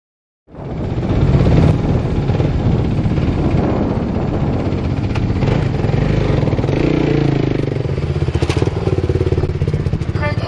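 A Suzuki 450 motocross bike's engine roars loudly and steadily, rising and shifting through gears with a slipper clutch, revs staying high and continuous for about ten seconds with some mechanical clatter.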